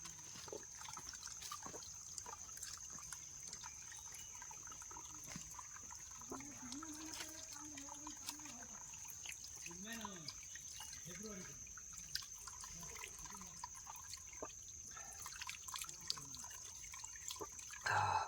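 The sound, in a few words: stream water flowing on a Sahyadri trek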